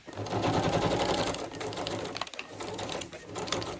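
A sewing machine runs steadily while stitching a machine appliqué during cluster-making crafting, a close, continuous whirring buzz with a rapid mechanical stitch pulse and a brief slowdown partway through.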